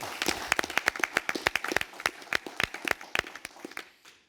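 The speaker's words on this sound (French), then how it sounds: "on peut applaudir la prestation de Hassen." A small audience at a French Judo Federation awards ceremony applauds a judoka's dan-grade demonstration. Distinct, fairly close individual claps patter irregularly, then thin out and stop near the end.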